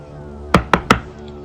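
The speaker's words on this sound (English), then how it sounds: "James knocked in every single door" A door is knocked three times in a quick, evenly spaced sequence, sharp and close, serving as a sound effect in a Halloween podcast story, with a quiet steady background bed underneath.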